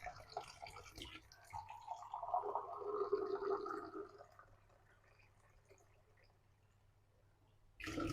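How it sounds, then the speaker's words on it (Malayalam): Water poured from a cup for making pathiri dough, about one and a half cups, a gurgling, splashing stream lasting a few seconds before it tails off into quiet room tone, with a brief clatter at the end. "ഒന്നര കപ്പ് വെള്ളം എടുക്കാം."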